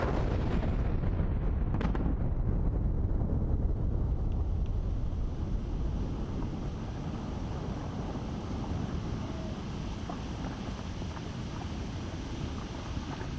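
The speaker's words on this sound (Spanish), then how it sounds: "La primera gran detonación es activada por el presidente Calderón." A large blasting detonation for bridge column foundations booms at the start and fades into a long rolling rumble with distant rustling debris, no voices.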